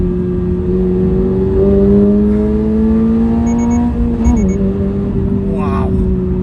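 A Toyota GR86 engine pulls hard in fourth gear, its steady rising drone climbing in pitch with a brief shift-like blip near the end, loud and close, with a voice talking over it.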